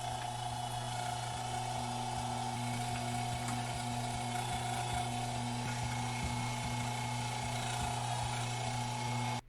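A meat grinder grinding frozen breaded onion rings: a steady motor drone with a constant hum and a higher whine, grinding on without pause for several seconds before cutting off at the end.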